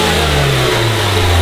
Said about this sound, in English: Alright, go ahead and give it a little rev. You hear it?